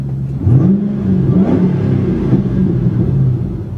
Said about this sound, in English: Now that's a V8 muscle car, and I think only an American car can make a sound like that.